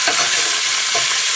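Chicken pieces fry with a loud, steady sizzle in a pan while a spatula scrapes and turns them, close up, with no talking.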